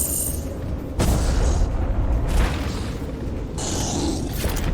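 Missile explosions in the video game M.A.S.S. Builder, a sustained barrage of loud booming blasts with sharp onsets near one, two and a half, and four seconds, rumbling continuously throughout.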